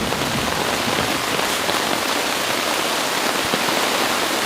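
A dense, unbroken hiss of heavy rain pounding down in a canyon, loud and close, with no other sounds.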